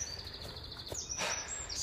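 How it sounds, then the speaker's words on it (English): Birdsong on an allotment on a sunny evening, faint high chirps and short calls repeating at a distance over a soft background hum. "And just enjoying the sun and the bird song."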